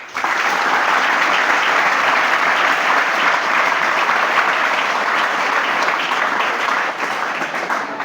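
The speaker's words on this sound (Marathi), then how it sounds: "टाळ्या वाजवा" Applause from a school audience after a student's Independence Day speech: dense, steady clapping from many hands, loud and continuous throughout, easing slightly near the end.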